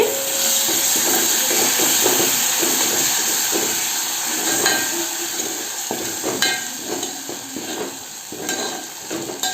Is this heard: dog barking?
no